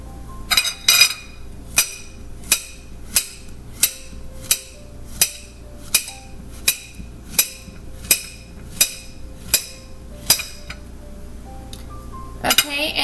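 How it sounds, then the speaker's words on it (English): A knife slices a banana on a cutting board, making about a dozen sharp, evenly spaced taps against the board. The taps are close and crisp, with quiet pauses between them. "And then I am going to cut it in slices."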